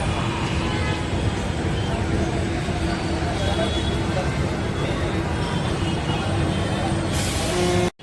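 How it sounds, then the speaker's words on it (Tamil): A Chennai Ula city bus pulling away in heavy street traffic, a loud steady engine roar with road noise and background chatter throughout, cutting off abruptly at the end. "சென்னை உலா பேருந்து இங்கேருந்து டிபார்ட் ஆயிடுச்சுங்க"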